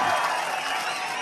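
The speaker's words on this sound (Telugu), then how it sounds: "అందరూ చప్పట్లు కొట్టి అభినందించండి వాళ్ళని." A crowd at a political rally applauds, a dense, loud, continuous wash of clapping that holds steady from start to finish.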